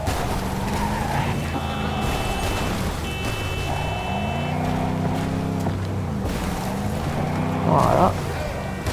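A pickup truck drives in the Cyberpunk 2077 video game, its engine note rising and falling with gear changes, some tire skids, and other traffic passing, steady and fairly loud throughout.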